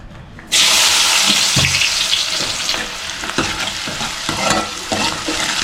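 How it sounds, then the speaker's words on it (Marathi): Chopped onion hits hot oil in a pan, setting off a sudden loud sizzle that carries on steadily with stirring scrapes. "तेल टाकून घेतोय, 2 पळ्या तेल टाकून घेऊ. आता आपण घेऊया कांदा टाकून."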